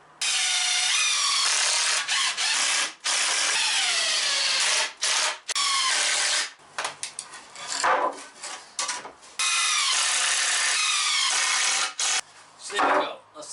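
A power driver sends screws into a wooden storage shelf frame in a garage, with long whirring bursts broken by brief pauses and a few shorter spurts near the end, all loud and close.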